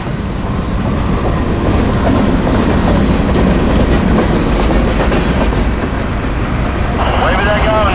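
A freight train made up almost entirely of boxcars rolls past close by on a Navy spur track, a steady loud rumble with rhythmic clickety-clack throughout, and a voice speaking briefly over the noise.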